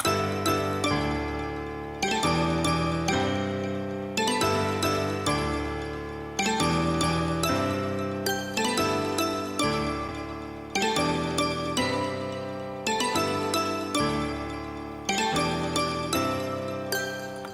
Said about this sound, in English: And also the Pluck sounds here, just bell sound.